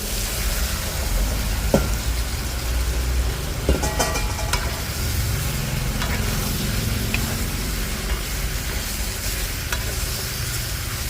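Pieces of lechon are dropped and stirred into a simmering sinigang pot with tomato, a continuous close bubbling and sizzling wash with a few clattering knocks and scrapes of meat and utensil, no talking.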